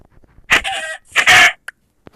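Two short bursts of clucking from a chicken in Minecraft, followed by a couple of faint clicks, with quiet gaps between.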